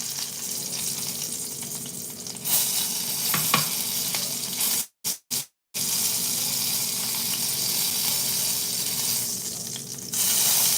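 A piece of apple sears in a hot pan, a steady close sizzle hissing throughout, with a brief cut-out near the middle and the frying swelling slightly louder toward the end.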